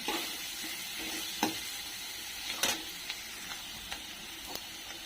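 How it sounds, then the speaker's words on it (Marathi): Chopped onion sizzles steadily in hot oil in a pan while being sautéed for masala rice, with occasional sharper clicks and scrapes of stirring over the continuous frying hiss. "कांदा चांगला परतून घ्यायचा भाजून द्यायचा"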